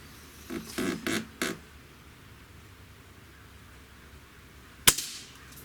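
An Umarex Emerge air rifle fires at the range with a single sharp, loud crack near the end, after a few softer clicks and clacks at the start, and otherwise quiet.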